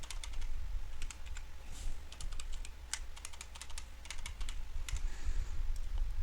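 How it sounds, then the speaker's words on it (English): Rapid, uneven keystrokes on a computer keyboard as an admin password is typed, steady clicking close by with no one speaking over it. "let's go ahead and type an admin password."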